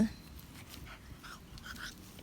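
A small pug gives soft whimpers and snuffly panting sounds, close and fairly quiet, over faint background noise.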